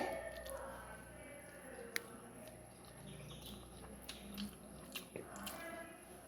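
Soft, close chewing of a mouthful of rice eaten with a stuffed drumstick dish, faint and intermittent over quiet room background with occasional distant bird calls.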